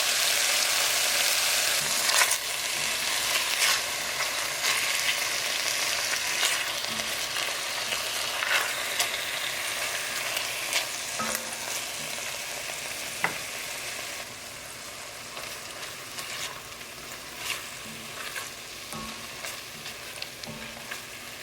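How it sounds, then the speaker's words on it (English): Pork kidney browning in a frying pan gives a steady, close sizzle that runs the whole time, broken by scattered clicks and scrapes of stirring and flipping, with no voices. "we are going to brown each side of the kidney about 4 minutes total"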